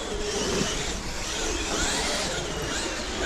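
A Traxxas X-Maxx RC truck with noisy gears drives on the Cambridge RC raceway track, giving a loud, continuous motor and gear whine with no gaps and no talk over it.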